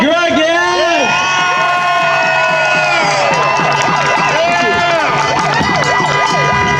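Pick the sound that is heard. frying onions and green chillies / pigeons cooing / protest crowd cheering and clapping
protest crowd cheering and clapping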